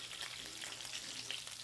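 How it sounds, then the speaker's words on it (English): Garlic cloves brown and sizzle in a skillet as a spatula scrapes across the bottom, a steady close crackle with faint scraping strokes, no voices. "let's scrape up all of these good flavorful bits from the bottom of the skillet"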